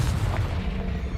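A Confringo explosive spell goes off in a video game, a dense booming blast with a heavy low rumble that fills the short moment, loud and close with no voices over it.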